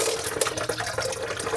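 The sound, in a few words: pouring rock tumbler slurry into a container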